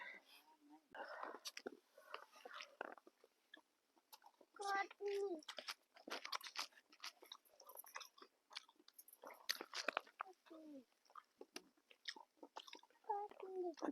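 Chicken biryani is eaten on a family night camping trip, with close, soft chewing and mouth sounds broken by quiet speech and whispering throughout.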